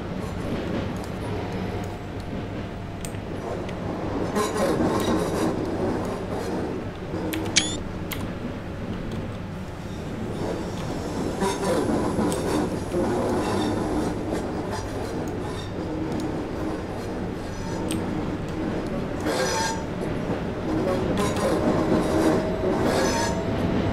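Train rumbling along rails in Train Simulator 2018, with a steady low drone of wheels and carriages, occasional squeals and clicks, continuous and fairly loud throughout.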